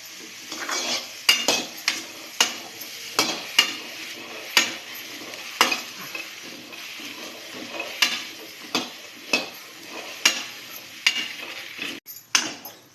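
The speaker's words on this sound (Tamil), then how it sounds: "கொட்டி இந்த நமநமப்பு தன்மை போகிறதுக்கு நல்லா வதக்கணும்" Pirandai (adamant creeper) sautés in a kadai, a soft sizzle punctuated by regular, sharp metallic scrapes and knocks of a spatula against the pan, roughly one every second, close and clear with no talking.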